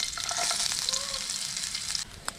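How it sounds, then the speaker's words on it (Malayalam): Coconut pieces fry in hot oil in a pan, with a loud, steady hiss and crackle throughout and a few stirring scrapes near the end. "എണ്ണ ചൂടായി കഴിഞ്ഞാൽ നമുക്കിതേ കുറച്ച് തേങ്ങാക്കൊത്ത് അതിലേക്ക് ഇട്ട് കൊടുക്കാം."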